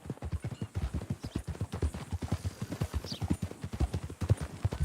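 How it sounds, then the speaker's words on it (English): Horse hooves clip-clop in a steady, fast, even rhythm in Red Dead Redemption 2, close and clear throughout with no speech over them. "That a new horse?"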